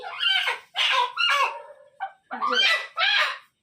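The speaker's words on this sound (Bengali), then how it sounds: "একদম দেশি দেশি মুরগি দেখেছো" A native country chicken clucking close by in a series of short, harsh bursts, about six calls with brief pauses between them, otherwise quiet.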